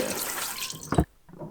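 Steel wool scrubs a soaped pot with baked-on food: a brief, wet, rasping burst that swells and then cuts off sharply, with a little faint scraping afterward.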